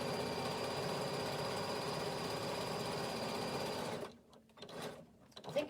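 A sewing machine stitches a seam along slipper fabric, a fast, steady rattling hum close up for about four seconds before it stops, leaving a few soft handling knocks.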